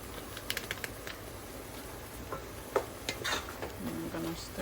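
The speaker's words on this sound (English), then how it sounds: "And I'm gonna stir that through." Taco seasoning being stirred into a frying mixture in a pan for cheesy taco puffs, with a continuous sizzle broken by scattered spoon scrapes and clicks against the pan, close up and without speech.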